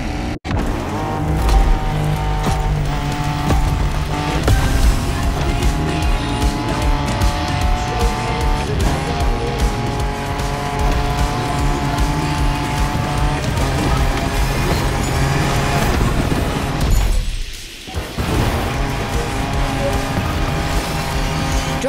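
A car drives off-road in The Crew Motorfest, its engine droning loud and steady with rough tyre and terrain noise throughout, dipping briefly for a moment before returning at full level.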